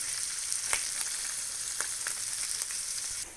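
Sliced onions frying in hot oil with turmeric, chili powder and garam masala for aloo paratha filling, giving a close, steady sizzle with a few faint stirring ticks and no voices.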